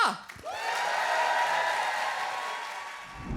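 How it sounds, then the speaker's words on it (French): A comedy show audience breaks into applause for comedian Louis Cattelat at a Pride comedy night, a broad sustained roar of clapping with some cheering that swells and then tapers off. "qu'on ferait pas un tonnerre d'applaudissements Ah. pour Louis Catla?"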